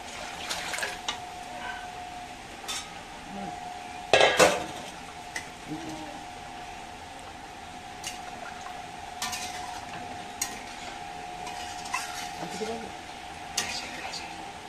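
Pressure-cooked mutton for a kosha curry is poured into a pan with a loud clatter and splash. Spoon-and-pot clinks and scrapes follow over a soft sizzle and a faint steady hum.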